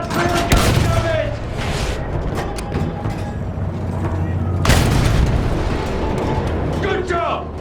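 Field gun blasts and explosions in the World War I shooter Battlefield 1, heavy booms and rolling fusillades over a constant rumble, with a shouted voice cutting through the battle noise.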